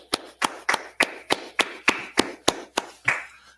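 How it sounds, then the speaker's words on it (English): Steady, evenly spaced handclaps at a religious gathering, about eleven sharp claps in quick regular rhythm, fairly close and with no voices over them. "let's clap it up"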